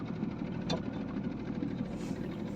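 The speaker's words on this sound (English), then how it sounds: "It's warming the engine up." A small speedboat engine idles at a steady low drone while warming up on a windy outing, a continuous rumbling hum with a brief higher click partway through.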